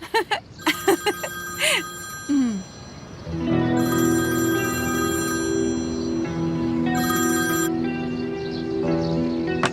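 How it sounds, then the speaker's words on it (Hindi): A telephone rings in repeated tonal bursts, at first broken up by a few short sounds, then steady over a sustained musical background. "कब से फोन बज रहा है"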